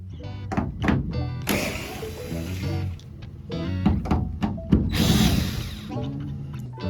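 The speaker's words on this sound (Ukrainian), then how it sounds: "Підкручу з внутрішньої сторони всі гайки." Power tool bursts and metallic clunks while nuts are tightened on the inside of a sliding door rail, short whirring runs separated by knocks and rattles, close and fairly loud.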